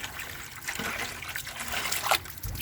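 Water from a hose trickles and splashes into a bucket while sand is rinsed out of it, a steady close liquid pour with brief gurgles and a slightly stronger splash near the end.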